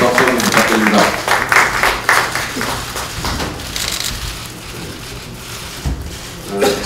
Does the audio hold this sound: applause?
yes